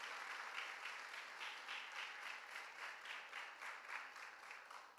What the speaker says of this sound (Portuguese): E aplauda a Jesus